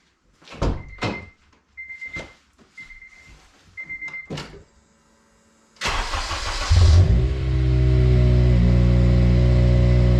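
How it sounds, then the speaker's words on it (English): A budget coupe with a budget exhaust cold-starting: several door and key clunks, then the engine cranks and catches with a loud rev and settles into a steady, deep, close idle. "here goes cold start"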